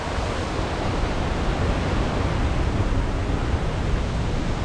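Water rushing steadily along a narrow irrigation channel on a rugged Nepali hillside path, a dense, continuous broadband roar close by, with no voices.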